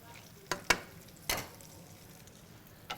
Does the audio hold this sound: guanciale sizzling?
yes